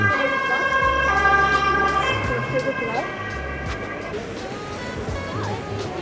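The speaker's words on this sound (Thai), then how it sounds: "รถพยาบาล" An ambulance siren wails in a rising and falling pattern on a wintry Stockholm street, fairly close at first and then fading a little, over steady street noise.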